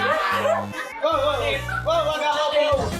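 A dog barking in a series of short, loud barks and yips nearby at a birthday gathering, with people talking and calling out around it.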